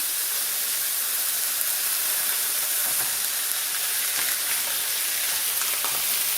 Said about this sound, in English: add your hamburgers into the pan